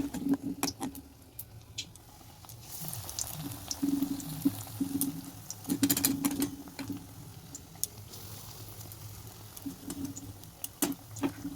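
Battered eggplant slices fry in hot oil, giving a soft crackle with scattered sharp pops and ticks and a faint low hum, all close, with no talking.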